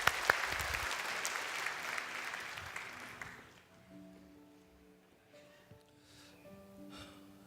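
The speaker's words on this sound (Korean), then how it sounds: "우리 한번 박수로 맞아서" Church congregation applauding to welcome a man to the front during a Sunday service, a loud dense burst of clapping that fades after about three seconds, giving way to soft organ or keyboard tones.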